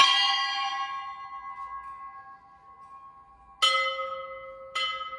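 Church bells ring in the bell tower in Suzdal: one long ringing strike decays slowly, then two more bright strikes follow near the end, loud and close with no voices.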